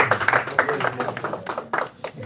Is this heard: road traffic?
no